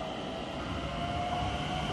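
A train runs through Rijswijk station in the Netherlands, a steady rumbling roar of rolling wagons that holds at a fairly constant level for the whole stretch, with no voices.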